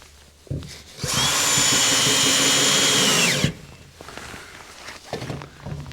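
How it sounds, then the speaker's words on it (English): Power drill driving short one-inch screws into a plywood shelf back support, a single loud high-revving burst of about two and a half seconds ending in a thunk, framed by quieter handling and shuffling noises. "just drive a few short 1-inch screws into that back support."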